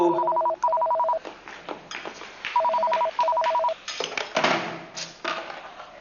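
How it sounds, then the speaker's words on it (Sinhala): A telephone rings in two pairs of bright electronic trills separated by short gaps, followed by clattering household noises. "මෙන්න ෆෝන් එක රින්ගනු."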